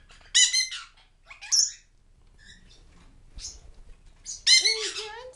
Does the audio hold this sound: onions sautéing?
no